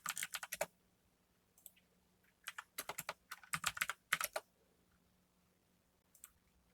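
Bursts of fast keyboard typing, clicky keystrokes in clusters separated by short pauses, close and fairly quiet.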